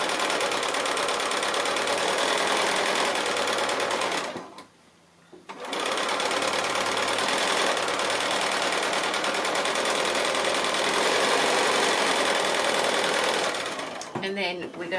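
A sewing machine chain piecing quilt squares, running as a steady close mechanical whir that stops briefly and then resumes. A voice talks over it.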